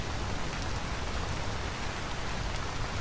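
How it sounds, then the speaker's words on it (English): Heavy rain falls in the video game Vintage Story, a dense, steady hiss of downpour that stays even and fairly loud throughout, with no voices. "It's snowing pretty hard now, or raining pretty hard."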